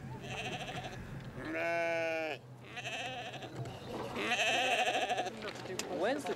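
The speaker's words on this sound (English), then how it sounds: "Let's round up those goats." Several goats bleat loudly in wavering, quavering calls, close by, with short pauses between cries and some voices murmuring underneath.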